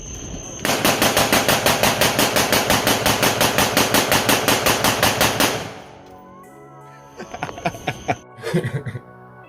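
A rifle fires a rapid string of loud, evenly spaced shots for about five seconds, then a few scattered clanks and bangs follow nearby.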